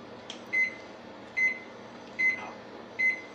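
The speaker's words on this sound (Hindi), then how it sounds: "बैंगन निकाल के मैं ये बाटी ओवन के अंदर रख देती हूँ।" A convection microwave oven set to 200 degrees Celsius hums steadily with baati inside, and a short chirping beep sounds four times at even intervals over the drone.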